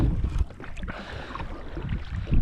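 A fishing boat pushes off from the shore into cold water on a winter afternoon: close, sloshing splashes and a scraping rush of water against the hull, lasting a couple of seconds with some wind noise.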